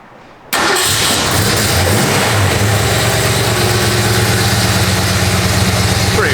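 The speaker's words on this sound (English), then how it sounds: "full-blown cold start." A fully rebuilt K-code engine in a 1966 Shelby Mustang GT350 fires on a cold start after sitting for days, then settles into a loud, steady, lumpy idle.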